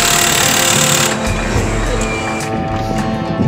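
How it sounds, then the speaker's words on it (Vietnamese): A Bosch power drill bores into concrete with a loud, harsh whirring grind close by, changing pitch partway through as the load shifts, with some faint background noise. "Khoan bê tông vô tư ha."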